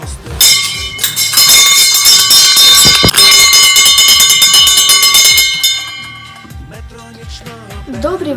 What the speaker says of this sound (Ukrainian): Наш дзвоник нас на зустріч закликає.